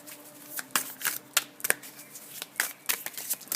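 A Light Seals Tarot deck is riffled and shuffled by hand, giving a quick run of crisp card flutters and slaps in irregular bursts, close up and without talk.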